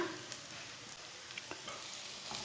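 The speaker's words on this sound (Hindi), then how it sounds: "आधा मिनट तक मसालों को भून लेंगे।" Ground spices, red chili, turmeric and coriander, roast in a pan over low heat with a faint, even sizzle and a few small scraping ticks from stirring, quiet and brief with no speech.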